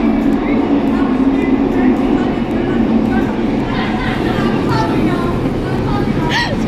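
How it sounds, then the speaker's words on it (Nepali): Train pulling into a station platform near David Lam Park, a steady loud rumble of rail cars with bright squealing brake tones rising toward the end, under continuous nearby chatter from waiting passengers. "अब गाडी आयो अब ट्रेन आयो"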